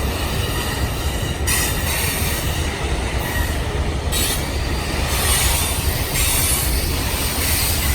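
A freight train of tank cars rumbles steadily past at close range in Montreal, with continuous wheel roar, clacking, and squealing swelling and fading over several seconds.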